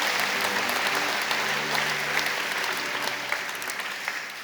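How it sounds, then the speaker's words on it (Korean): A church congregation applauds during a Sunday worship service to welcome newcomers, steady sustained clapping that holds evenly throughout with a faint tonal hum beneath it. "여러분 께 박수로 환영하시죠"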